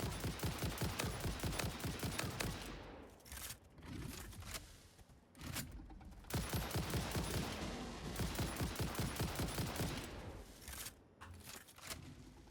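Rapid automatic gunfire from weapons in the factory-building video game Satisfactory, loud and close, rattling in sustained bursts with short gaps between them.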